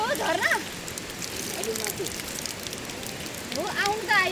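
Water pouring steadily from a mountain spring spout beside a trail, a close continuous splashing rush, with voices talking at the start and end.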